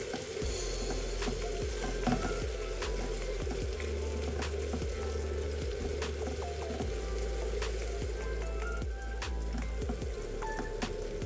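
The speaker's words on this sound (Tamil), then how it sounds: "எண்ணெய் பிரிஞ்சு வர வரைக்கும் நல்லா வதங்கட்டும்." Onions and tomato sautéing in oil for manathakkali vathal kuzhambu, a dense continuous sizzle and crackle with frequent scraping clicks of stirring, steady and close throughout.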